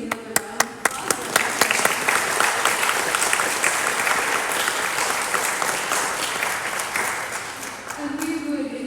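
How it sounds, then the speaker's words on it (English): Sustained applause from a church audience after an organ and piano duet at a patriotic concert, opening with a few distinct claps that swell into dense, steady clapping lasting several seconds. "Can we please give them another round of applause?"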